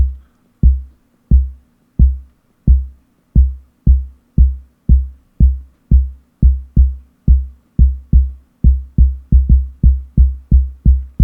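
A Torso T-1 sequencer plays an evenly spaced pulse pattern: a long run of deep, punchy kick-like thumps with steady rhythm and quick decay over a faint hum, loud and close, with the hits bunching slightly tighter toward the end.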